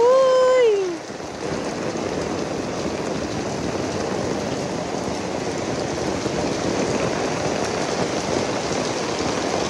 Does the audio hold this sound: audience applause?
no